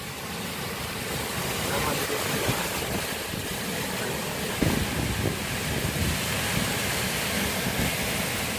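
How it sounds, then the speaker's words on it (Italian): Strong wind roaring steadily outdoors, buffeting the microphone with gusts that swell and ease over a constant rushing noise, no voices heard. "Grabe yung hangin."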